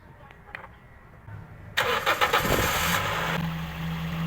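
A Toyota Vios engine cranks after a quiet start and catches, then settles into a steady, close idle for the rest of the stretch.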